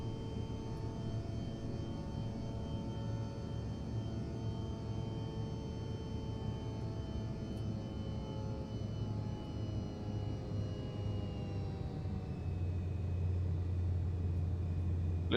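Inside the cabin of a CRJ regional jet in a flight simulator sound pack, a steady engine hum and muffled rumble drone on for the whole stretch. Near the end it shifts to a lower tone, and no one speaks.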